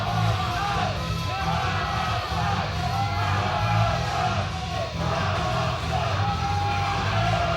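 A wrestling crowd at an independent show roars continuously, with loud cheering and yelling that swells and dips slightly but never stops.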